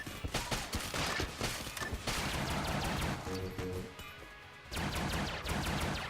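Rapid gunfire from the Super Meat Gun in the video game Enter the Gungeon, a loud, dense stream of shots with crashing impacts that dips briefly before the firing picks up again.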